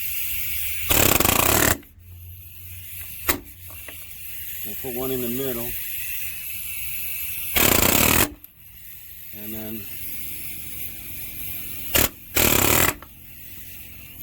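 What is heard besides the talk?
nailer driving nails into deck boards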